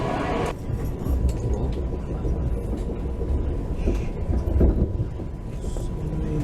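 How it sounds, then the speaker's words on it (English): A train bound for Berlin Schönefeld Airport rumbles at a station, a loud, steady low roar after a brief opening noise, with faint background voices. "here is our train to Berlin Schönefeld Airport"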